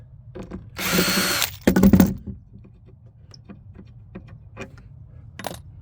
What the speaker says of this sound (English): Can't be without this drill, you know.